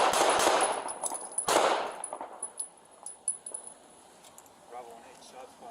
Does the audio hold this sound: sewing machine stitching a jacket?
no